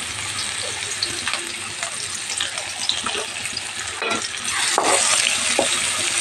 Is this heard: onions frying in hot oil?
yes